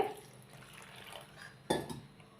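Onion vada batter is mixed with water in a bowl, giving a faint, close-up wet stirring and squelching with a soft scrape or clink against the bowl near the end.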